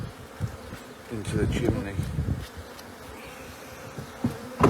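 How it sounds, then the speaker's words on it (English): Honey bees swarm around a chimney in a steady buzzing drone that swells and fades, close by, with a few brief sounds of handling and a short spoken phrase. "just brush them bees off, they'll go back"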